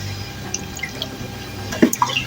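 Water drains off washed raw chicken and potatoes in a kitchen, heard as soft scattered drips and small trickles close by, quiet and without talk.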